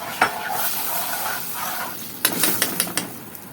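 Garlic mixture sizzling in a frying pan, a steady close hiss of frying with a few sharp utensil clinks and stirring scrapes toward the end.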